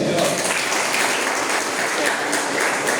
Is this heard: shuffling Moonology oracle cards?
no